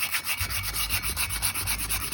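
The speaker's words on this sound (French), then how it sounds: "Voilà, ça y est, disque poncé." Sandpaper is rubbed around a rear brake disc of a Mercedes V-Class in quick, rhythmic strokes, close and steady with no talking.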